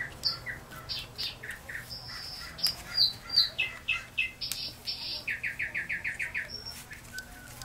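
Mockingbirds sing outdoors in a varied, continuous run of chirps, trills and repeated rapid notes, fairly close and moderately loud over a low steady background hum.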